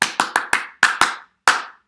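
Sharp, close hand claps beat out a short syncopated rhythm, seven crisp claps in a quick uneven pattern with a brief pause before the last one, heard alone in a quiet room.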